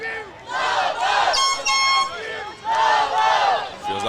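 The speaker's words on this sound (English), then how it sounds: "Here comes the Lobo chant." Longview Lobos fans chant loudly in unison at a baseball game against Corsicana, a rhythmic crowd chant rising in two long waves with a brief pause between.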